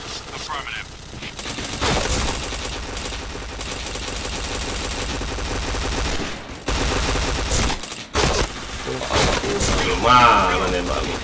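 Rapid gunfire bursts rattle through a Point Blank online shooter match, dense automatic fire running almost continuously with brief gaps and thuds, while players talk over it.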